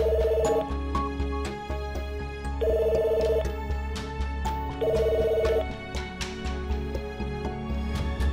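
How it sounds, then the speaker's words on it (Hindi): A telephone rings three times unanswered, each ring a bright two-tone electronic trill separated by pauses, heard under background music in a TV drama scene. "सर बेल तो जा रही है लेकिन एनी फोन नहीं पिक कर रही।"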